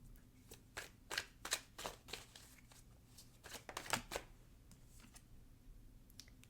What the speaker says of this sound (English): I'm also going to pull cards on this.